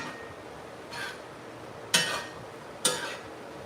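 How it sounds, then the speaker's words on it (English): A spoon stirs food in a pot at a Jamaican breakfast cook-up, giving a soft scrape and then two sharp metallic clinks against the rim over quiet room tone, with no talk. "Let's stir this."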